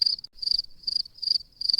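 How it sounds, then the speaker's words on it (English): Crickets chirp at night beside a campfire, each high, bright burst repeating in a steady, even rhythm with short gaps between, clear and fairly close with no voices. "And I can hear crickets."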